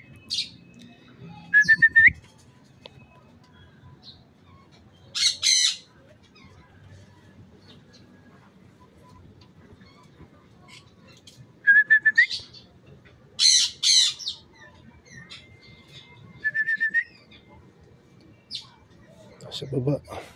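A pet bird gives a few short, sharp whistling calls and squawks in separate bursts against a quiet background, with long pauses between them.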